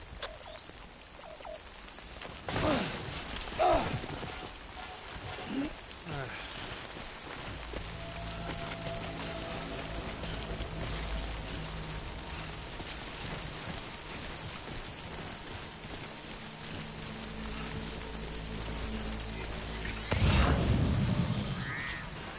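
Steady rain pours down in the video game Death Stranding, a continuous close hiss with louder gusts near the start and end, while a low, sustained musical tone hums underneath and no one speaks.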